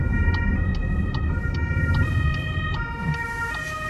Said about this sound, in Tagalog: Ambulansya doon